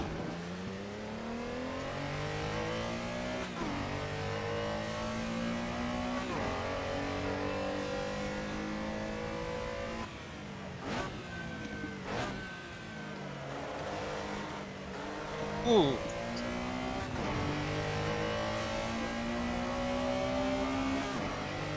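Race cars in the Assetto Corsa driving game rev and shift through gears on a mountain touge course, engine notes rising and falling continuously, with a brief tire squeal and no talking.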